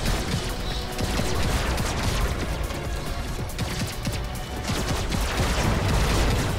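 Burst gunfire in the Robocraft video game, dense rapid volleys of shots and crashes running almost continuously, loud and close with no clear talk.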